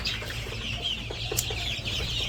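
Backyard chickens cluck continuously under a steady broadband hiss, with a few brief sharper calls standing out but no distinct rhythm.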